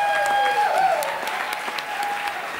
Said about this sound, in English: Give yourselves a big, massive round of applause.